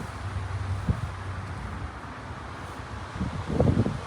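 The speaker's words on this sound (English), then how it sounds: "it's very windy, y'all, so please forgive me if it's hard to hear" Gusty wind buffets the microphone in a large cemetery, a low rumbling rush that swells and fades in uneven bursts. It stays fairly faint overall, with no voices.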